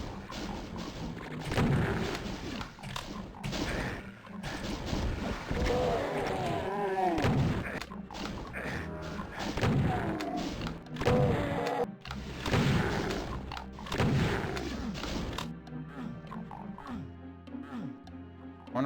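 Rocket launcher explosions from the shooter Doom, played in DSDA-Doom, booming repeatedly through a busy, continuous stretch of game noise, with bursts spread through the first fifteen seconds before things quiet down.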